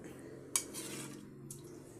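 Cooked adobo pork liver is set onto a plate in a home kitchen, with one sharp clink of utensil against dish followed by a softer clatter, quiet and close.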